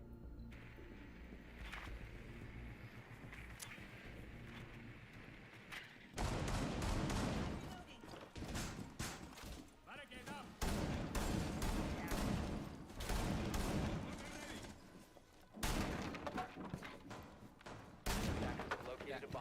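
Rounds of gunfire in a Rainbow Six Siege esports playoff match, sharp shots and rapid bursts, some distant and some loud and close, with a commentator talking over the action.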